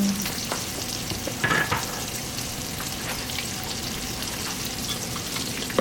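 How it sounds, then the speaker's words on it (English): Chili powder, cayenne, Cajun seasoning, black pepper and paprika fry in a pot for red beans and rice, a close, steady sizzle with scraping stirs and a few clanks, no voices. "give that a nice stir. Don't let your seasonings burn."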